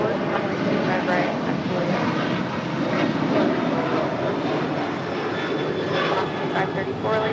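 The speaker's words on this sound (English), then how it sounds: "This is Alaska Airlines Flight 1446 departing to Los Cabos on a 737-900" An Alaska Airlines Boeing 737-900 departing for Los Cabos gives a steady, broad roar of jet engine noise that holds at an even level throughout, with talk over it.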